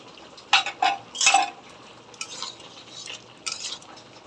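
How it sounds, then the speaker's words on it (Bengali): Hilsa fish heads going into a pot of simmering curry with greens and stalks: several clattering stirs and spoon-against-pot scrapes come in short bursts over faint bubbling. No one speaks. "এখন আমি এই মাছগুলো দিয়ে দেব, মাছের মাথাটা।"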